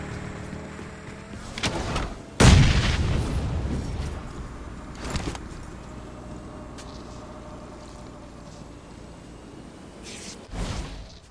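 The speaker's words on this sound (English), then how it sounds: "I got a headshot by the sniper" A sniper rifle in PUBG Mobile fires a single loud, booming shot with a long rumbling tail, preceded by a sharper crack and followed by a few fainter distant reports.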